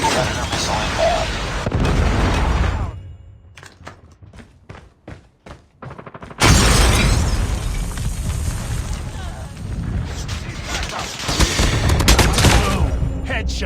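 Predator missile strikes in Call of Duty Mobile: loud booming blasts and rapid gunfire bursts, a brief quieter stretch of clicking pops, then heavy explosions and continuing fire, with game voice lines over it.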